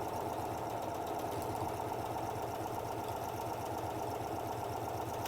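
A sewing machine runs steadily at close range, stitching across the ends of fabric panels with a continuous, even mechanical whir and rapid needle rhythm throughout.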